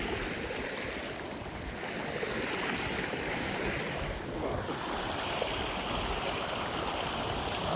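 Broad, continuous rushing of heavy floodwater during heavy rain in Kadegaon, Sangli, steady and fairly loud, with wind buffeting the microphone and no voices.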